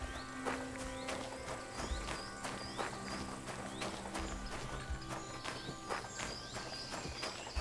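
A horse in the video game Kingdom Come: Deliverance II clip-clops steadily on hard ground, the hoofbeats close and rhythmic over a busy outdoor ambience, with a brief snort or whinny.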